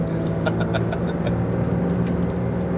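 Daihatsu Xenia 1000 with an added Blackcore Ultimate turbo pulling hard in second gear, a loud steady engine drone with road rumble heard from inside the car, no talk over it.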